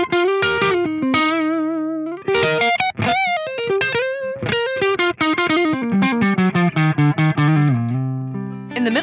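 Electric guitar played through a Friedman IR-D pedalboard tube preamp into a 4x12 cabinet impulse response, a driven, distorted tone with a melodic run of sustained notes and quick phrases, loud and alone without talk.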